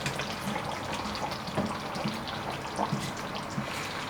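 Water is poured steadily into a simmering Cantonese coconut beef curry sauce with potatoes, a continuous close trickle and splash over a bubbling, sizzling background with no talking.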